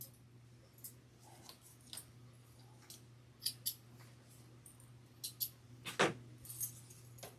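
Small scissors from a sewing kit snip thread in a scattering of quiet, crisp clicks over several seconds, with one sharper cut standing out near the end against a faint steady hum.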